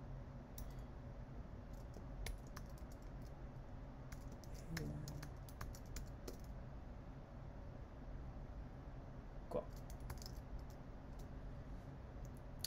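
Someone types a Wi-Fi network name and password on a computer keyboard while setting up a drone flight computer, giving faint scattered key clicks over a low background hum.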